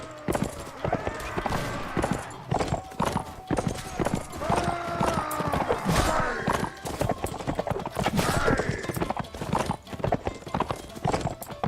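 Horse hooves clip-clopping in a galloping rhythm in the video game Mount and Blade Warband, steady and fairly close, with occasional whinnies and someone talking over them.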